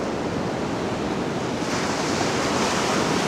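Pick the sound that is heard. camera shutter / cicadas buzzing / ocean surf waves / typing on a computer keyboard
ocean surf waves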